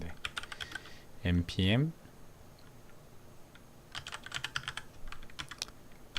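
Close fingers type on a computer keyboard in short bursts, searching for a software storage folder, with a brief spoken word partway through and quiet clacking runs before and after.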